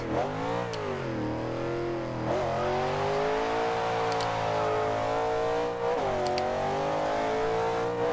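A 2015 Chevrolet Camaro Z/28 engine in the racing game Forza Horizon 2 launches hard, a loud, continuous, close roar that climbs in pitch through several gear shifts, with brief dips as each gear changes.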